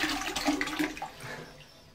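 A restored 1962 Frank Love Ltd No 10 "The Athenium" cistern toilet flushes with a close rushing surge of water that fades into a trickling refill, no talk.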